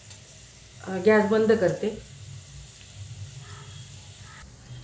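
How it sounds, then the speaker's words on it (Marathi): Mustard-seed tempering (phodni) crackles and sizzles sharply in a small pan of hot oil for curd rice, a close, loud burst about a second long that settles into a low background hiss, with someone speaking briefly. "आता मी फोडणी देते"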